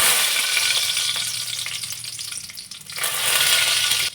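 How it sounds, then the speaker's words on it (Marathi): Curry leaves dropped into hot oil in a pan, giving a loud crackling sizzle that eases briefly then flares up again, close and continuous with no talk. "सगळ्यात अगोदर कढीपत्त्याची पानं घातली तेलामध्ये।"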